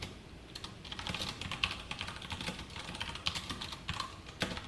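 JavaScript code is typed on a computer keyboard, with quick, close, irregular key clicks and a few louder taps, heard alone without talk.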